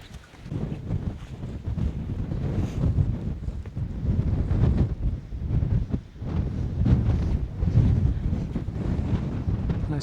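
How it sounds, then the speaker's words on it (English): Strong wind buffets the microphone in continuous gusty rumbles on a Peak District hilltop ridge, loud and close, with no talking. "Quite windy up here,"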